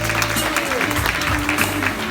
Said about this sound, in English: Everyone, please give applause for Chloe.